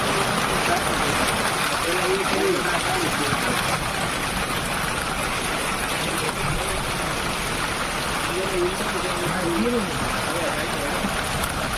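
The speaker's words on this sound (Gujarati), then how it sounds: "જોરદાર મોટા સાટે વરસાદ ચાલુ છે અત્યારે." Heavy rain pours over the Jasdan area farmland, a steady, dense hiss and roar of water that holds evenly from start to finish.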